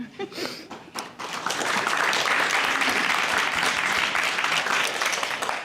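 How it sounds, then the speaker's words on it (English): A crowd applauds at a Guide Dogs for the Blind class graduation ceremony, starting with a brief voice and scattered claps, then swelling into loud, sustained, dense clapping that carries to the end. "he thinks that all the applause is for him"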